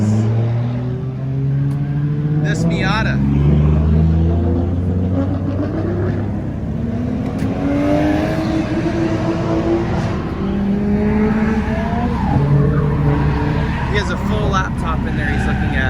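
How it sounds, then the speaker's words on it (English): Mazda Miata engine revving repeatedly, its pitch rising and falling in sweeps close by, with someone talking over it throughout. "Today's super unique car is this Miata."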